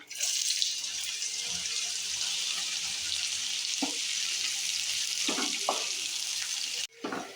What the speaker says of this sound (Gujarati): તેલ ગરમ રાઈ થઈ ગઈ છે, હવે નાખશું જીરું થોડું, હવે તજ, સૌપ્રથમ નાખશું લીલું લસણ